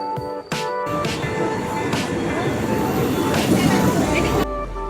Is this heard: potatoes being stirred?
no